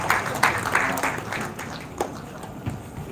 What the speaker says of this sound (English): Please, the round of applause should keep on going like this